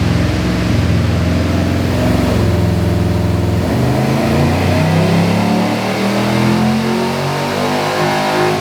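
A Chevrolet car, either a G8 sedan or a Silverado pickup, revs hard on a dyno during tuning, its engine droning loud and close in one sustained pull.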